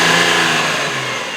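A Nissan Z's VQ35 V6 engine revs loudly and steadily up close, holding a strong, sustained mechanical roar that eases slightly toward the end, with no voices over it.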